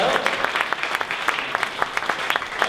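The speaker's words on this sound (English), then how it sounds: "So will you give a rousing round of applause for David Matthews?" A round of applause for speaker David Matthews at a startup community gathering, brisk and fairly close, with clustered individual claps over a few seconds.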